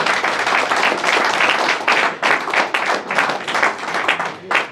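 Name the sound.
audience applause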